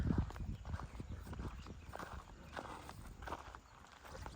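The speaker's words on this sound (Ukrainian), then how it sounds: "Такі коники тут." Hooves clip-clop steadily on hard ground as mares walk nearby on a village farm in Khmelnytskyi region, Ukraine, with some low rumbling background noise throughout.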